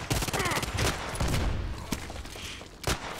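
Colt Python Elite revolver fired in the Contract Wars video game: several loud, close, spaced shots with echoing tails, alongside other gunfire and a talking voice.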